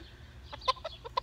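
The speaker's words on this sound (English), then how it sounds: "Yes, you're a chicken, I see you." A chicken clucks softly in a weedy hillside garden, giving a few short, quiet clucks at a moderate distance over a low background rumble.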